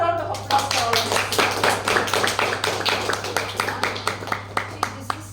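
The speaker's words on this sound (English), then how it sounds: "Let us give a good round of applause to all of" Clapping from a small audience at a speakers' forum meeting, starting as a scattered flurry and thinning into a handful of distinct, rhythmic claps, with a steady low hum underneath.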